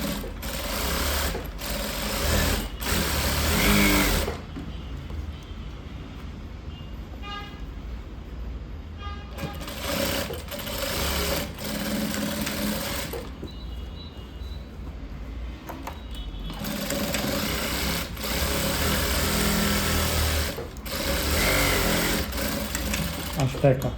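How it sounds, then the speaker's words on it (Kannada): A sewing machine stitches the lining of a blouse in a tailoring class, running in several long loud bursts with short pauses between them, some under a speaking voice. "ಕಟ್ ಮಾಡಿದ ನಂತರ ಈಗ ಹೊಲಿಗೆ ಹಾಕೊಂಬರೋಣ."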